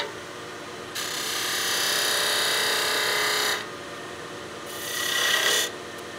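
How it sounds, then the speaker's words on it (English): Wood lathe turning a birdhouse ornament as a tenon is cut, two bursts of bright rasping cutting noise over a low motor hum, the first steady for nearly three seconds, the second shorter and swelling, close and alone. "We'll cut our tenon to fit our chuck."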